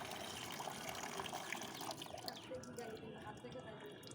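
Water gushing steadily from a tap, a constant broad splashing flow that runs loud and close for most of the clip before thinning toward the end.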